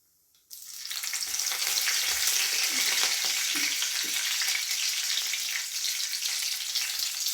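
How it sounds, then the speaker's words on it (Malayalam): Mustard seeds and curry leaves spluttering in hot coconut oil for a Kerala ash gourd thoran, a sudden loud sizzle that bursts in and holds steady with scattered crackling pops, close and alone. "നമ്മുടെ കടുക് പൊട്ടാൻ തുടങ്ങിയിട്ടുണ്ടെങ്കിൽ നമുക്ക് കരിവേപ്പില ഇട്ട് കൊടുക്കാം"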